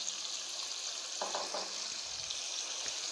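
Beef and potato curry being fried bhuna-style in a pan, a steady soft sizzle running throughout with a few brief stirring scrapes partway through, close and moderately quiet.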